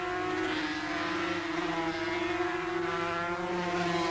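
Several 250cc two-stroke racing motorcycles, Rotax-engined among them, howl past at Oulton Park circuit in 1984, a loud continuous high-pitched engine drone with steady harmonics and no talk.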